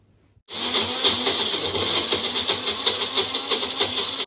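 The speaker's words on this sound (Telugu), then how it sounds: "మిక్సీ చేద్దాం" A kitchen mixer grinder whirs steadily as it grinds a paste of peanuts, sesame seeds and tamarind, starting abruptly and running loud and continuous with a rough, slightly fluctuating motor drone.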